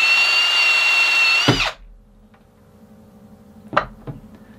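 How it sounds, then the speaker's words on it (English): A power drill runs steadily in reverse, turning an easy out extractor to pull a seized part from a pressure washer being repaired. The loud whine stops abruptly, followed by quiet and two short knocks of metal handling. "Remember, the drill has to run in reverse."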